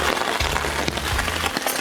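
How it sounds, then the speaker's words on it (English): Heavy rain pours down in a dense, steady hiss of drops drumming on a nearby surface, loud and unbroken, in still air in Southern Alberta elk country. "as you can hear, we're getting some rain"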